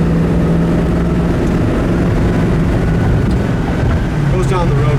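A 1972 Chevy Nova engine runs loud and close with a thick, continuous rumble that holds steady for the whole stretch.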